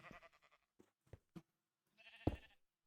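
Sheep on a Minecraft wool farm bleating in short, close calls: several quick overlapping bleats at the start, a few brief sounds in the middle and one longer, louder bleat near the end, with no one talking.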